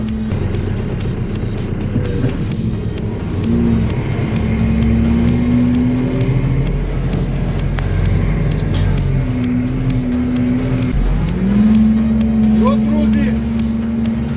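A steady low drone from a Skaut TV-904 S tractor engine runs throughout while ploughing a muddy field, rising in pitch a few times as it works, with a voice speaking over it.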